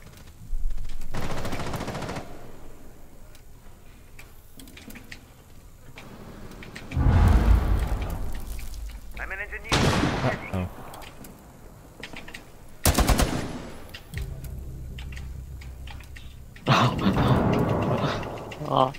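Bursts of gunfire from the video game Rainbow Six Siege crack out in loud rapid volleys that come and go across the scene, mixed with game sounds and players talking over the action.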